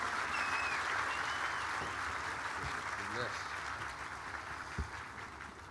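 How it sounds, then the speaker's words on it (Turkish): A large crowd at an Istanbul political rally applauds the host, a broad sustained wash of clapping and cheering that slowly tapers, with a few faint whistles and shouts rising above it. "Şimdi lütfen bu güzel buluşmamızın ev sahibini alkışlayalım."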